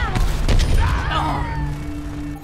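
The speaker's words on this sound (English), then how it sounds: "let me just grenade everybody" Grenade blasts in Overwatch, played on Xbox One: a burst of booming, crackling explosions near the start that fade into a lingering rumble with game tones.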